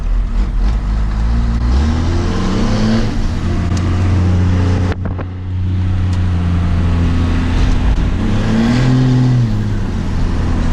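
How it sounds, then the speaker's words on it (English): A diesel truck engine idling loud and close, then revved in a couple of rising, falling pulls, one near the start and another toward the end, with a brief dip between. "give you a couple little revs of this thing"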